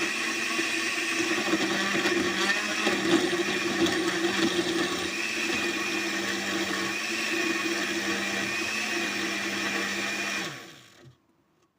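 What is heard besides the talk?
electric blender blending mango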